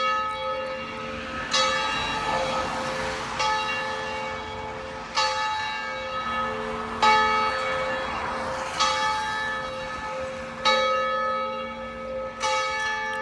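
Church bells ring in a steady, repeating pattern, each strike ringing out with a long shimmering tail, heard at a moderate distance.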